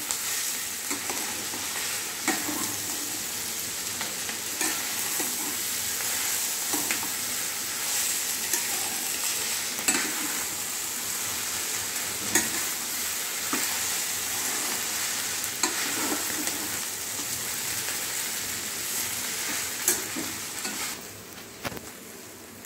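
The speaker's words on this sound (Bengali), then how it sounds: "এবার নুডলসের সাথে ভালো করে ইনগ্রেডিয়েন্টসগুলো মিশিয়ে দিতে হবে।" Noodles stir-fried in a pan with mixed ingredients for Indo-Chinese mixed noodles give a steady close sizzle, with repeated scraping and tossing clatter throughout and no talking.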